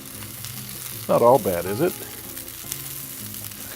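Turkey sausages sizzle on a Blackstone griddle with a steady, close frying hiss, while a person speaks briefly over it.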